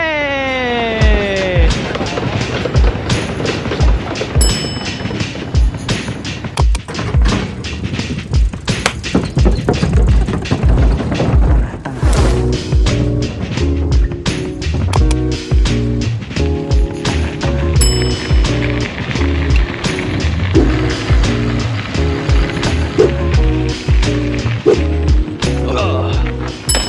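A Vanpowers UrbanGlide Pro e-bike rolls over cement, wooden boards and a bridge, with continuous loud tire rumble, repeated rhythmic thumps over joints and rattling, close and busy throughout.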